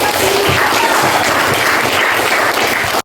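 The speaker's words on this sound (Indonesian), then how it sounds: "Tepuk tangan untuk teman-teman." Students in a classroom give their classmates a loud, dense burst of applause. Many hands clap at once in a continuous roar that holds steady for about three seconds and then stops abruptly.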